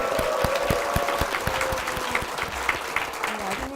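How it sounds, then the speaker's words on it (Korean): A church congregation claps in warm applause to welcome an elderly deaconess mother onto the stage during a Full Gospel church program, a steady dense patter of many hands filling the hall with the sound of a crowd. "여러분 큰 박수로 모시겠습니다."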